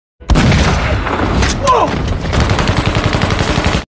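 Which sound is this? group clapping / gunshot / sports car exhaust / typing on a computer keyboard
gunshot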